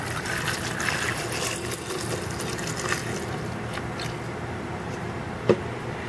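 Milk pours into a cup for a chocolate cheesecake milkshake, a steady liquid gush and trickle that runs throughout, with a brief sharp clink near the end.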